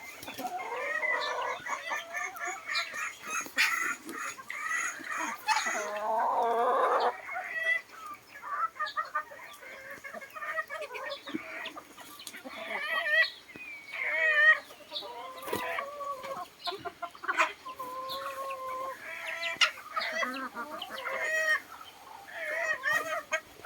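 Bantam junglefowl chickens cluck and chatter close by in irregular bursts, with occasional louder squawks and calls overlapping throughout.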